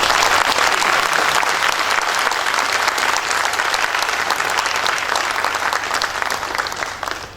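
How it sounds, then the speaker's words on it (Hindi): Loud, dense clapping from an audience at a steel plant's Hindi fortnight award function, continuous and evenly sustained for several seconds before fading slightly at the end. "हम सब जोर से ताली बजा करके"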